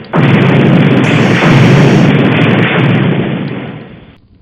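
A loud, sustained sci-fi photon cannon blast roars continuously for several seconds, dense and rumbling, then fades away at the end.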